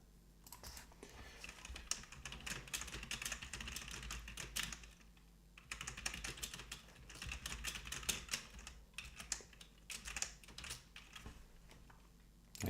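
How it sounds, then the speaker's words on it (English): Steady, rapid clatter of a computer keyboard being typed on during live coding work, continuous and close with brief pauses, no talking. "You can hear me typing."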